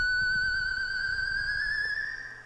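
A lone synth tone with bright harmonics climbs steadily higher over a faint low rumble, then holds and begins to fade as the level drops in a reverb tail at the end.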